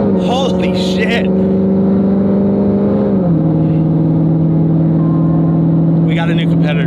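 A Roush Mustang on a base tune with a little extra top-end fuel, launched hard from 2,500 RPM, its engine a loud, steady drone that drops pitch briefly midway as it shifts, with voices talking over it.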